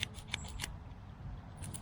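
Old scissors pulled up while magnet fishing from a boat, snipped open and shut several times in quick succession, sharp metallic clicks close up over a steady low rumble of wind and water.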